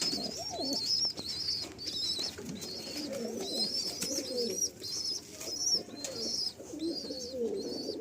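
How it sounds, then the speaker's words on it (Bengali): Gola pigeons, a male and female pair, coo in a loft: repeated soft, throaty coos close by, with faint chirps and light rustling between calls. "এটা হলো দাদার ঘরের গোলা পেয়ার, সামনে মেল আর পিছনে ফিমেল।"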